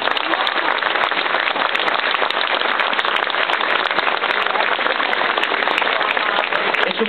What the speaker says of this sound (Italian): E su questo applauso io do la parola all'onorevole Pietro Diodato